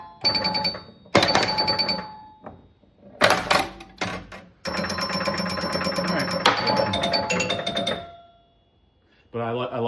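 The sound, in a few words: chimes of a 1978 Bally Strikes and Spares pinball machine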